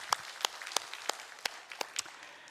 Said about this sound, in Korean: 우리 하나님께 감사와 영광의 박수 올려드리도록 하겠습니다